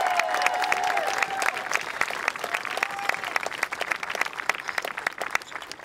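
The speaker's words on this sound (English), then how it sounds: "Give another round of applause." Steady applause from a crowd at the 2018 March for Our Lives rally in Washington, DC, dense clapping that carries on without pause at a moderate, slightly distant level.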